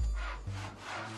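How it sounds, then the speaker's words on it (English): Log being sawn by hand as a drinking-game event in Poland, a short burst of rough wooden rasping strokes, close and fairly loud, with no talk. "Sawing a log."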